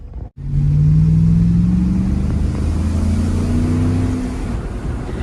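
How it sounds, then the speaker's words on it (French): A van with more than 300 horsepower on a test drive, its engine revving loud and close, pitch climbing steadily through long pulls with a brief dip between gears, no talking. "je suis en train de tester la voiture de nos amis hollandais"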